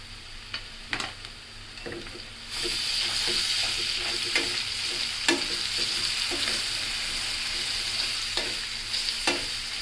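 Cumin paste, chili powder and turmeric fry in a pan for a rohu fish roe curry, giving a steady broadband sizzle with repeated scraping stir strokes throughout, close and moderately loud, no talking.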